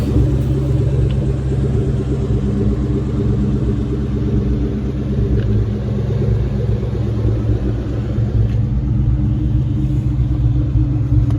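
A truck rolls along a residential street, its engine producing a loud, steady low rumble that lasts throughout with no talking.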